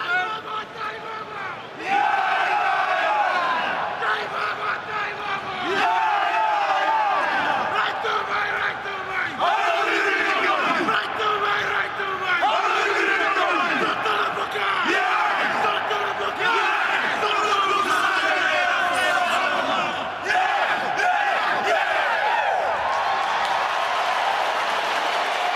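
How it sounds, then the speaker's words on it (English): Fiji's rugby team performs the Cibi war chant before a 2007 World Cup match against Canada in Cardiff, with loud rhythmic group shouts rising and falling over crowd noise and applause. "Here is the Thimby, first used on a rugby field back in 1939 when Fiji went to New Zealand and wanted their version of the haka."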